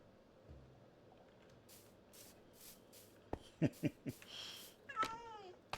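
A cat meows in Minecraft, with a few short, moderately loud calls near the end over quiet ambient background.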